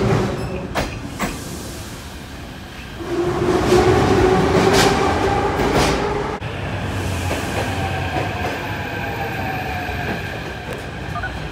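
A Kyiv metro train on the Sviatoshynsko-Brovarska line rumbles steadily along the track. Rail clatter and wheel squeal swell and fade over a continuous underground roar, with a sharp bang midway.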